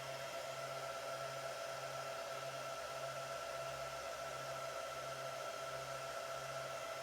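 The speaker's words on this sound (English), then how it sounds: "once it's done, we should hear the fan speed diminish quite a bit." Steady whirring of small 40mm fans inside a Supermicro SuperServer SYS-E300-8D during boot, a constant airy hum with a faint tonal whine, fairly quiet and unbroken, no talking.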